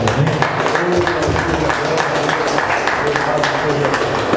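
A church congregation claps together during a service, steady dense applause filling the whole stretch at a fairly close, even level, with a voice speaking over it.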